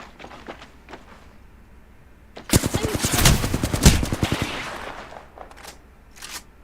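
Rapid automatic gunfire rattles in a dense burst lasting about two seconds as a dummy is shot in an Apex Legends match, with a few isolated shots before and after.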